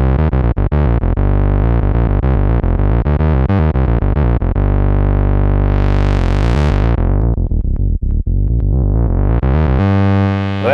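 A Moog Subsequent 37 synthesizer plays a loud, gritty bass line of rapid repeated notes with the resonance turned up. A filter sweep rises to a bright squelchy peak, then falls, and a final note rings out alone.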